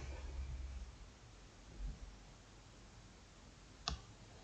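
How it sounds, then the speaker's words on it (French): A single sharp computer mouse click rings out near the end, selecting an OK button during Spring web service setup, faint against a low steady background hiss. "Et on va cliquer sur OK."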